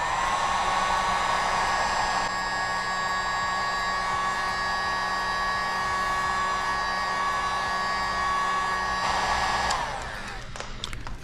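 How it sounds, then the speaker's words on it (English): A heat gun blowing steadily at close range to warm golf grip tape, a constant loud whirring hiss with a faint tonal whine that drops off near the end. "what I'm gonna do is handy dandy heat gun."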